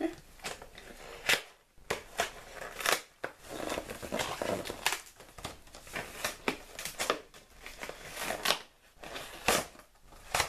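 A taped parcel is torn and unwrapped by hand, making close crinkling, ripping and crackling bursts of paper and tape in uneven spurts with short pauses between them.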